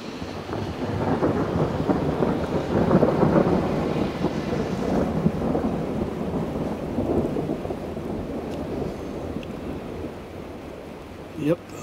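Thundersnow during an October snowstorm, a long, deep rumble of thunder rolling steadily through snowfall, with a brief louder crack near the end.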